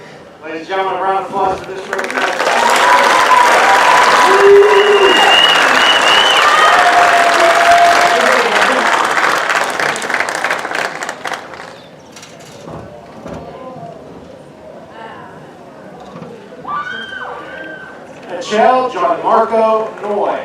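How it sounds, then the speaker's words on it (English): High school commencement crowd applauds a group of graduates, a swell of clapping that rises early, holds for several seconds and fades, with a voice speaking over the later part. "Ladies and gentlemen, a round of applause for this group."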